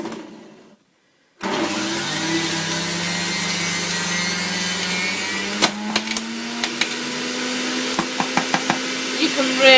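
An electric juicer whirs steadily as a whole piece of ginger is fed in for carrot juice, its motor droning loud and close with a cluster of sharp knocks and thuds toward the end.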